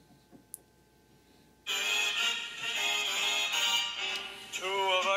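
Apple iPad mini advert music plays as a ringtone, a bright tuneful pop melody that kicks in suddenly after a quiet start and carries on loud and steady to the end.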